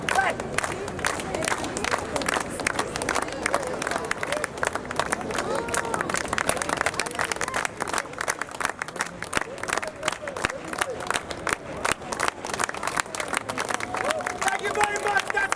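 A crowd watching a street performance in Prague claps in quick, dense bursts with cheers and shouts rising throughout, loud and close, with a performer's voice over the applause.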